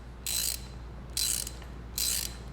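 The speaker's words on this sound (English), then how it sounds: "I can grab my wrenches and start tightening." Wrenches tightening the nut on a wheelchair caster wheel bolt give three short, bright ratcheting bursts, evenly spaced about a second apart, close and fairly quiet with no talking.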